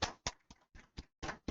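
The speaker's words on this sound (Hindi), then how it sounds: "तालियां होनी चाहिए भाई।" A handful of separate hand claps ring out in an irregular rhythm, about seven distinct close, sharp strikes with brief silences between them, welcoming a reasoning teacher at an education channel event.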